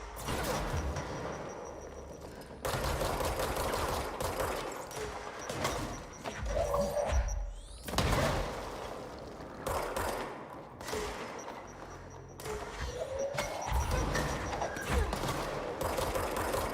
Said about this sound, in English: so many grenades.